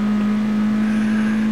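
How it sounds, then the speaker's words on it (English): Small car engine in Gran Turismo 2 droning at a steady high pitch as it strains near top speed, a continuous loud hum with no break and no talking. "this little car is just straining to get over 120 miles an hour"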